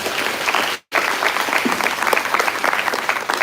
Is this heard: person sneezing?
no